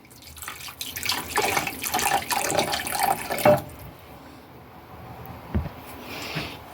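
Water is poured into a pot for stuffed eggplant broth, a steady splashing stream for a few seconds before stopping, followed by a couple of faint knocks and quiet handling.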